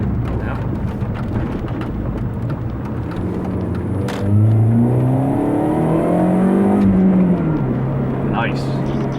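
A 2004 Mini Cooper S R53 with a 6-speed manual accelerating on a road, its engine note rising steadily in pitch and growing louder midway, heard from inside the car.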